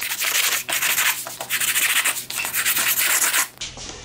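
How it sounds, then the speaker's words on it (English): Repeated scratchy rubbing strokes of a sanding block on a leather edge, close and rhythmic, with brief pauses between passes. "Just get any fuzz off the edge of that leather on the edges."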